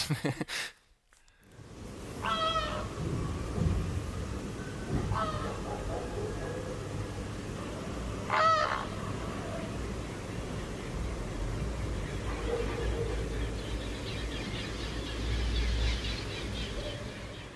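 Migrating birds call high over Barcelona's city centre at night: a few distant honking, goose-like calls ring out above a constant urban hiss and low city rumble, with no voices.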